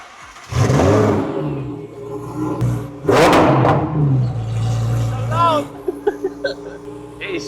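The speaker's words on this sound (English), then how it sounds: "Lovely car, and I love how loud it is as well." A loud £250,000 supercar engine revving in short bursts, with a deep rumble that swells twice and then settles into idle before a few sharp blips, heard up close.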